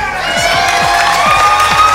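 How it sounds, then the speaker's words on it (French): Audience applause and cheering at the Cameroon Top Model season final gala, a dense steady wash of clapping with crowd whoops running loud and continuous throughout. "L'applaudissement."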